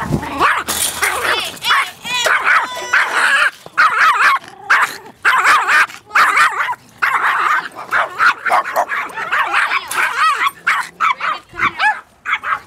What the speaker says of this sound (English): there's this chihuahua that always barks at me just for entering my mom's room